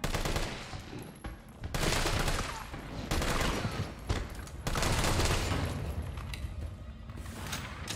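Heavy gunfire in Resident Evil 3, long loud bursts of automatic fire with booming impacts, broken by short pauses, with some voice underneath.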